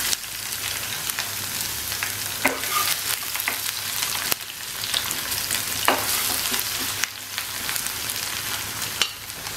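Chopped garlic frying in a hot pan while cooking ilish fish head with kachu shak, a steady close sizzling hiss broken by occasional stirring scrapes and clinks.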